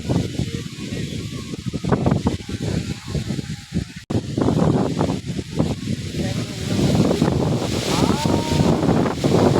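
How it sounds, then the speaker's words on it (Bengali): Strong stormy wind gusts over the microphone at a seashore as rain begins, a loud, continuous rushing roar with buffeting bursts, dipping briefly around the middle before surging back even louder. "বিশাল হাওয়া, ঝোড়ো হাওয়া দিচ্ছে এখানটা"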